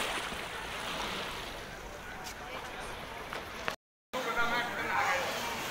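Swollen Ganges at Triveni Ghat rushing steadily as broadband water noise, loud and continuous, with a brief dropout near the end before the flow resumes.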